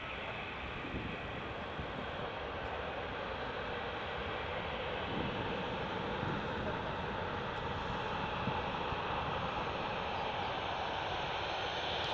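A Boeing 737-400 airliner taxiing at Newcastle Airport gives a steady, continuous broadband jet engine roar that holds even for the whole stretch, fairly loud and unbroken, with no talk over it.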